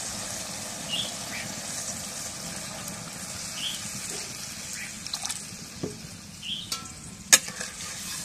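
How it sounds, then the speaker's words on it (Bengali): Water goes into a hot pot of browned goat tripe in a village kitchen, producing a steady sizzle and hiss with light scraping and a few sharp clinks of the utensils toward the end. "এখন ছাগলের মুড়িগুলো কষা হয়ে গেছে, জল দিয়ে দিই।"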